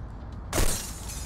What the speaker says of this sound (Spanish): Rompo cristales.